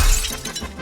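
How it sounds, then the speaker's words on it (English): A glass floor shattering under hammer blows in a film scene, one sudden loud crash of breaking glass that fades off quickly. "So Craig hits the floor with a hammer until it shatters and Patoff falls."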